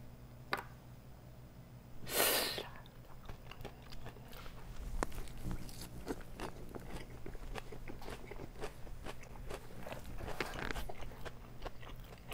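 Someone eats a taco topped with carrot slaw, with a loud bite followed by steady close, crunchy chewing and no talk.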